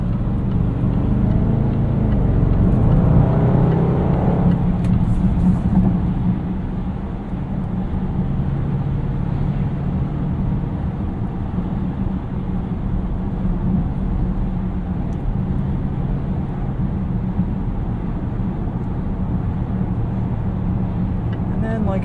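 A 2018 Range Rover Sport with a supercharged V8 drives steadily, its low engine drone and road rumble filling the cabin continuously at a fairly loud, even level.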